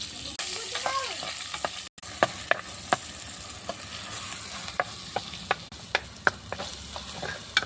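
Turmeric is stirred into a masala paste with yogurt in a pan for a chicken curry cooked over a wood-fired stove. A steady sizzle and fry hum runs throughout, punctuated by sharp spoon taps and scrapes at irregular intervals.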